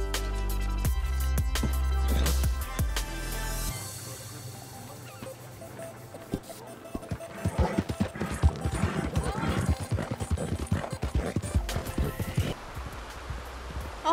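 A horse in the Red Dead Online video game whinnies near a cliff, then hooves clip-clop over rustling ground, moderately loud with game background sounds.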